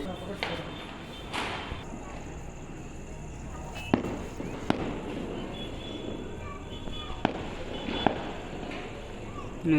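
Distant Diwali fireworks and firecrackers crackle and pop throughout, with a few sharper bangs standing out over a constant rumbling backdrop.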